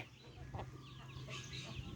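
A chicken gives a few quiet clucks against a low, constant background rumble, faint and close.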